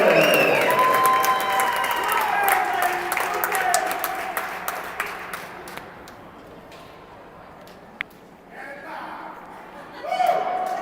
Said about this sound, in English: one more round of applause for our runners-up